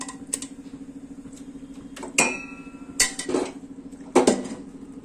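Mutton biryani meat and rice being spooned into a cooking pot, with several sharp metallic clanks and scrapes of a spoon against the pot between quieter stretches, close and clear with no talking.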